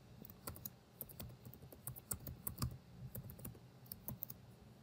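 Rapid, uneven clicking of fingers typing on a computer keyboard, a close and fairly quiet burst of keystrokes entering a password, with no talking.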